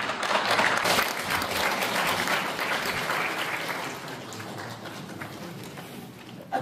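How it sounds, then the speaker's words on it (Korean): Dense, sustained applause from a large audience at a lecture concert, loud at first and slowly easing off toward the end. "큰 박수 부탁드립니다"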